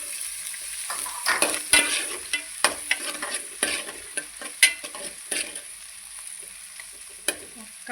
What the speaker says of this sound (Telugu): అదేవిధంగా కట్ చేసి పెట్టుకున్న టమాటాలు కూడా వేసేద్దాం.